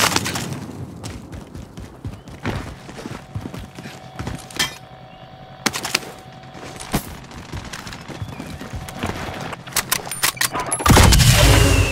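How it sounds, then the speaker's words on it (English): Gunfire in a shooter video game comes as rapid sharp cracks and bursts spread through the stretch, loud and close, ending with a dense roaring wash of noise. "Receiving hostile fire."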